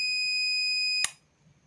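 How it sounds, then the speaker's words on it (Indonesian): A homemade PLN power-outage detector circuit sounds its buzzer in a loud, steady, high-pitched tone. The tone cuts off abruptly with a click about a second in, followed by near silence. "buzzer ini langsung berbunyi atau rangkaian ini langsung berbunyi ya"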